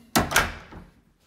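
A coat closet door by the front entrance of a King Junior Suite at the Waldorf Astoria Amsterdam opens with two quick, close wooden thunks that fade into a short, soft rattle.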